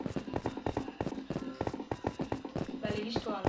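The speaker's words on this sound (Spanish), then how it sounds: "es el caballo que tenemos" Horse hooves clip-clop in quick rhythmic steps in Minecraft, close and fairly loud, with a few other game sounds near the end.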